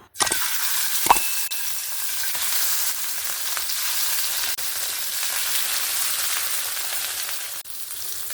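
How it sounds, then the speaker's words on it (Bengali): Fish pieces frying in hot oil in a pan for a Punjabi-style fish curry, with a steady, dense sizzle that starts with a sharp burst as they go in and then crackles evenly and loudly throughout. "তেলটা এখানে ভালোভাবে গরম হয়ে গেছে। এবার আমি মাছগুলোকে দিয়ে দেব।"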